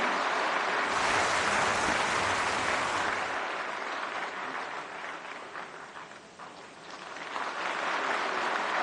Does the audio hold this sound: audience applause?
yes